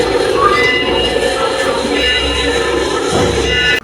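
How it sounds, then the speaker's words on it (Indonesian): A train rumbles past in a steady, loud roar with grinding metallic overtones and dull thuds, stopping abruptly at the end. "Ini apa kira-kira? kereta api."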